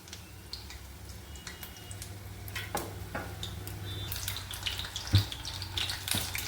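Ripe banana fritters fry in oil over medium heat, giving a quiet, steady sizzle with scattered soft pops and ticks and no talking.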